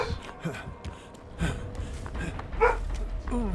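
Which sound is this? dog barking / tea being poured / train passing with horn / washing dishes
dog barking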